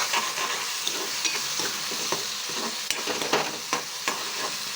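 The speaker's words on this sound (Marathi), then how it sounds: "आता आपण कढईमध्ये आपण तेल टाकून घेतलेले आहे, आता याचमध्ये आपण भाजी पूर्ण बघारून घेणार आहे" Stuffed brinjal and vegetables fry in oil in a kadhai, a steady sizzle broken by repeated scraping stirs of a spoon, close and moderately loud with no talking.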